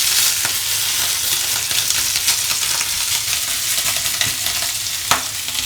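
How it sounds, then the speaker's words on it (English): Steak searing in hot fat in a pan on the stove, a loud, steady, dense sizzle with spattering crackles and a sharp pop near the end, with no voices. "now we're just gonna gently put the steak on the stove"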